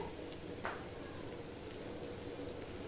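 Potato and onion fry in a covered pan over low to medium flame, giving a faint, even sizzle with soft crackles and no talk.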